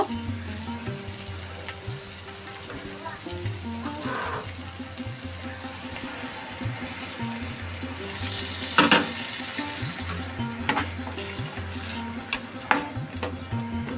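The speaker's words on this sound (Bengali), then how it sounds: "তো এখন আমি এখানে গরম জল দিয়ে দেব।" Hot water is added to fish-head murighonto frying in a pan, a steady dense sizzle with stirring clatter and a brief louder burst of hissing partway through, no voices.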